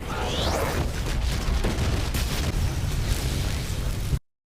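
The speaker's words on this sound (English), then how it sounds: "The men spot her and blow the building." A building explosion roars continuously, a dense, rumbling blast with crackling debris that stays loud for several seconds before cutting off abruptly.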